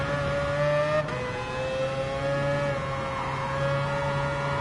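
A Mazda RX-Vision GT3 concept race car in Gran Turismo Sport holds a loud, steady high-pitched engine whine, revving continuously with a slight dip before it sustains again.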